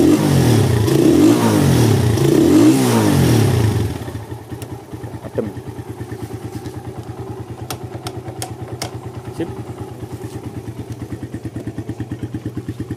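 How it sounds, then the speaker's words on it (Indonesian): Freshly serviced touring motorcycle engine, first revved loudly for about four seconds, then settling into a steady, close idle with a regular thumping beat and occasional light clatter. "Untuk mesinnya sudah adem halus sama powerful."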